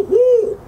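A person's voice imitates an owl hoot in a Cajun swamp, giving one loud, close, smooth 'whoo' that rises slightly and then falls away.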